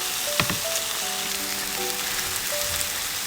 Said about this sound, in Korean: 들기름을 한시 두르고 센 불에서 쭈꾸미를 넣어 볶아주세요